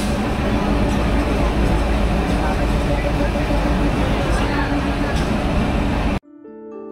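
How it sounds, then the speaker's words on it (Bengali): Trains at Ishwardi railway junction, Bangladesh's largest, bring a loud steady rumble with station bustle and a voice talking over it, before the noise drops away sharply near the end. "আমরা চলে এলাম ঈশ্বরদী রেলওয়ে জংশন।"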